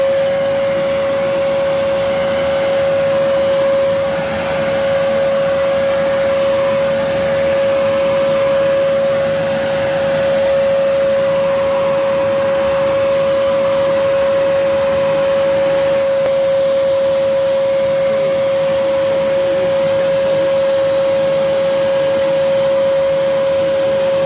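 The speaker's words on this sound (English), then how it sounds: "You may not be able to hear me with this Hoover going" A VAX Platinum Power Max Pet Design vacuum cleaner drones loudly and continuously, a steady motor whine with a constant pitch that holds throughout without a break.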